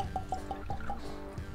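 Weller bourbon poured into a glass, heard as a quick run of small, evenly spaced glugs and drips close by, moderately quiet, with no talking.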